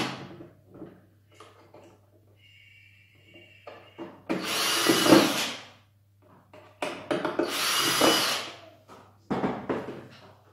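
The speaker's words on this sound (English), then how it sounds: "you're going to be drilling quite a few holes" Holes drilled into a Traxxas TRX-4 RC truck body for window grills: two bursts of high whirring drilling a couple of seconds each, close, separated by small handling clicks and a brief tone.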